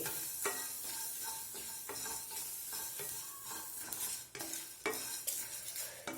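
Curry leaves and grated coconut fry gently in a pan over a low flame, giving a steady soft sizzle broken by repeated scraping strokes of a stirring spoon, close and without speech.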